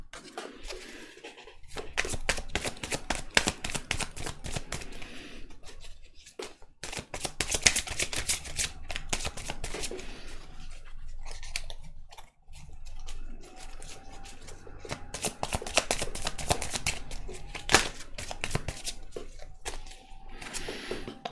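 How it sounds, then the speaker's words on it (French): Tarot cards shuffled and laid out one after another for a couple's reading, a dense run of quick papery riffles and flicks in bursts, close and fairly loud with brief pauses between. "On va tirer quelques cartes de celui-là"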